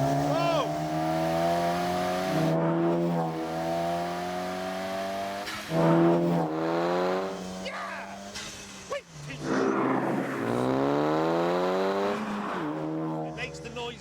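A lightweight sports car with an aluminium spine and composite tub, weighing under three-quarters of a ton, accelerates hard through rising, whining gear sweeps, loud and close, with excited shouts from the occupants.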